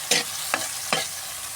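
Egg and tomato stirred in a hot pan, a spatula scraping in three short strokes against a steady low sizzle of frying, with no voices.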